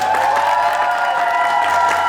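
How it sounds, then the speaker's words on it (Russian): A concert audience at an international performers' competition in Ufa applauds, dense sustained clapping with some cheering, steady and full throughout a large hall, with a musical tone lingering underneath. "Аплодисменты!"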